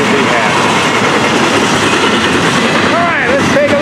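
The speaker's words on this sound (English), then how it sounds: "let's take a look at this train" A freight train on the FEC line rolls past at night, loud and close, with a continuous roar and rhythmic clattering of wheels over rail joints. Faint wheel squeals rise near the end.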